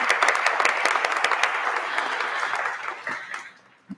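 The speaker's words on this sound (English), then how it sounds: "So we'll clap for y'all as well." Audience at a university nursing pinning and hooding ceremony claps steadily in a full, sustained round of applause that tapers off near the end, with one last faint clap.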